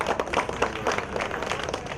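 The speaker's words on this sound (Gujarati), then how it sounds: "તો જોરદાર તાળીઓ થઈ જાય એમના માટે" A crowd claps and applauds at the grand opening of The Faster cycle store in Visnagar: a dense, steady patter of many hands lasting about two seconds, fairly close and lively.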